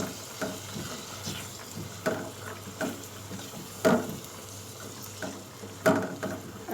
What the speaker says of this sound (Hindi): अब हम इन तमाम मसालों को भूनेंगे।